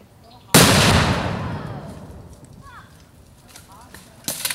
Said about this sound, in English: And we're gonna blow it up.